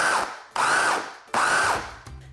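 Food processor pulsing pie crust ingredients of butter, salt, sugar and flour, three short loud whirring bursts in quick succession with brief pauses between, no talking.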